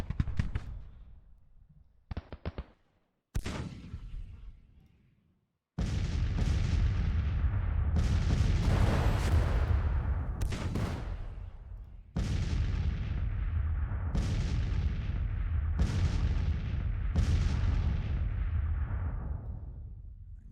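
Civil War-era cannon fire in the strategy game Grand Tactician: The Civil War, starting with scattered distant booms, then a continuous heavy barrage of deep overlapping artillery blasts with repeated sharp reports rising above the rumble.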